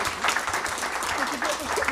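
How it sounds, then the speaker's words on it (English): Dense crowd applause at a school board meeting for career facilitators, a steady, fairly loud wash of many hands clapping with no pause. "So I want to give them a round of applause."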